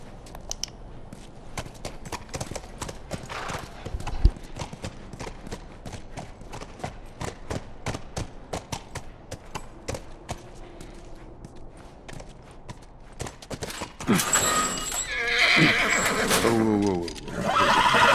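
A horse in The Last of Us whinnies and its hooves clip-clop in a steady rhythm of footfalls, close by, before a louder loud whinny bursts out near the end.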